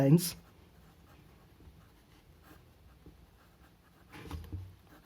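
Chalk or marker scratches a line across a board during a physics lecture, a faint, steady scraping with brief louder knocks at the start and near the end.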